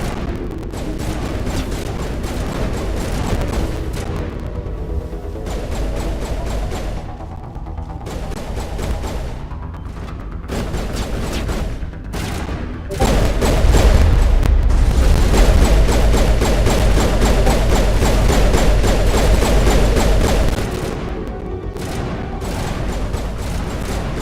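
Grenade explosions and heavy gunfire in the Mass Effect game thunder loudly and continuously, with a sustained booming burst in the middle of the dense battle noise.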